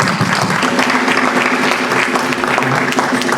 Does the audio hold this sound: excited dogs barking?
no